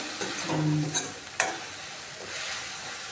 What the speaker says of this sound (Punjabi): ਉਹਨਾਂ ਚਿਰ ਮਸਾਲੇ ਨੂੰ ਭੁੰਨਣਾ